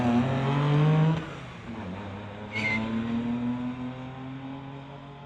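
Street legal drag cars roar down the strip at a race meet, engines droning steadily from a distance with a gear-change dip partway through, loud and continuous.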